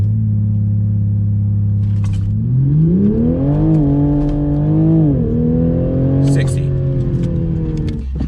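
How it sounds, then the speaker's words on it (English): A Toyota Supra engine, traction control off, is floored with the brake held: a steady low drone swells into a loud, sustained high rev that holds, dips briefly and holds again. "Foot in the brake, floor it."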